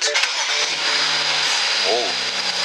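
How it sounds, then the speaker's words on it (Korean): A BMW E93 335 convertible, towed in after failing to start, cranks and fires up with a brief starter whine before settling into a steady idle, close by in a workshop. "카바를 다 덮기 전에 혹시 모르니까 시동을 한번 걸어 볼게요."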